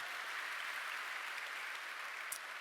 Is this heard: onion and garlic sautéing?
no